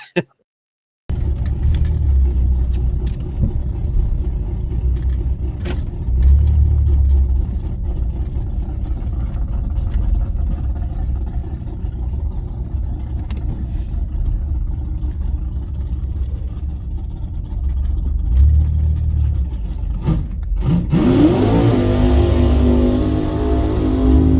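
Cars circling a race track to dry the surface, heard as a continuous engine rumble and drone, with engine pitch rising near the end as a car passes closer.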